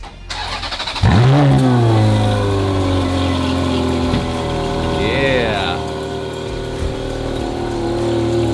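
A lifted Range Rover Sport engine starts lukewarm with a loud crank and catch, then revs up and settles into a steady idle, with another brief rev partway through.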